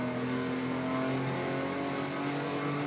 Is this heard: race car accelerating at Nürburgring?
yes